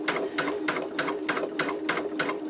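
Embroidery sewing machine stitching an in-the-hoop wallet, a steady, rapid mechanical chatter with regular rhythmic pulses, close and alone.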